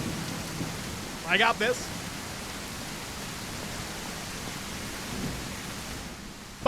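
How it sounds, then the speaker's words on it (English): Steady broadband rain hiss with a low rumbling undertone, as in a storm, fills the ghost hunting video game The Other Side; a brief spoken phrase cuts in early, then the downpour continues evenly. "I still can't get over the fact that it's raining right now, and it wasn't raining a second ago."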